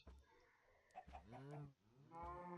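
A cow lowing in a farming video game, with a few short moos and then longer drawn-out calls, close and fairly quiet, mixed with small clicks.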